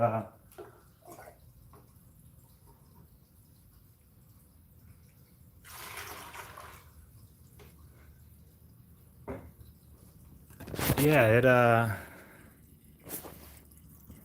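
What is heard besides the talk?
water running out and dripping from a device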